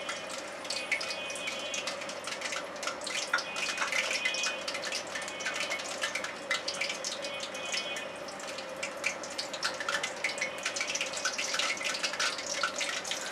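Frozen liver singaras deep frying in hot oil, a steady dense crackle and bubbling that runs evenly throughout without talk, moderately close.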